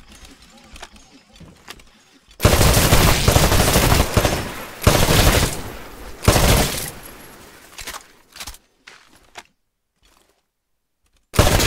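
Rapid automatic weapon fire from the video game Titanfall strikes shooting-range targets in loud bursts over several seconds, stopping and starting, with quiet moments between them.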